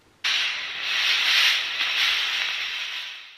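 A sudden burst of steady, breathy hissing starts abruptly and continues for a few seconds, close by, with a slight rise and fall in intensity.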